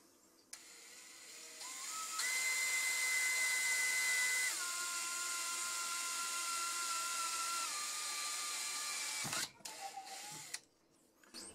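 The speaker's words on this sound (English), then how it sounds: "So I'll grab a drill bit, stick a hole through there." A small electric drill whines steadily at high pitch, its tone stepping down as it bites in, then stopping abruptly with a few clicks after about nine seconds.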